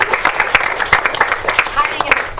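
Audience applause at a VR lab meetup, a steady patter of clapping hands with sharp individual claps sustained over several seconds, mixed with a few voices in the room.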